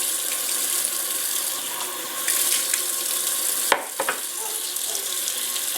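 Water pours into a container of freshly scooped garden seeds and pulp for rinsing, a steady, close splashing hiss broken near the end by a short clunk and a few small splashes.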